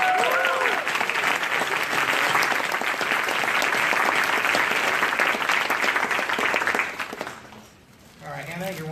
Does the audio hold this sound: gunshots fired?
no